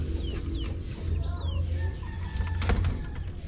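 Rhode Island chickens cluck and squawk close by in a coop, several short calls over a steady low background hum.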